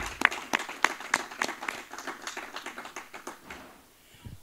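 An audience at a political conference of party presidents claps in a loose, ragged burst for leader Moïse Katumbi, with several sharp distinct claps at first that thin out into scattered, fading applause.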